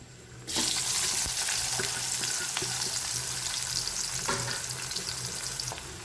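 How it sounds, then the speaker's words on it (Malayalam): Finely chopped onion hits hot oil for an egg biryani masala, a loud bright sizzle starting abruptly and holding steady, with occasional stirring scrapes and clicks. "ഇനി ഇതിലേക്ക് ഒരു സവാള ചെറുതായിട്ട് അരിഞ്ഞത് ഇട്ട് നന്നായിട്ടൊന്ന് ഫ്രൈ ചെയ്തെടുക്കാം"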